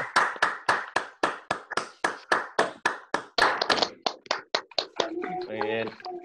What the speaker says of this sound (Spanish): El aplauso como le gusta a Hugo para cerrar las reuniones.